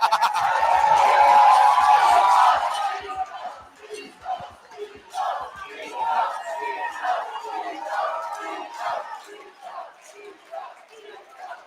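Spectators at a PFA 6 MMA fight night roar loudly for about two seconds, then the cheering fades into scattered shouts and chatter while a commentator talks over the crowd.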